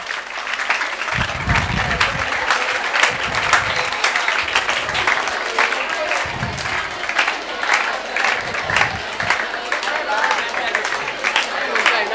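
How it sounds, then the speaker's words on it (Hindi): A room of students at a career guidance session applauds a teacher, with continuous, lively clapping and crowd noise throughout, fairly loud and close, with a few louder bursts. "जोरदार तालियां सर के लिए, हमारे मुनव्वर सर"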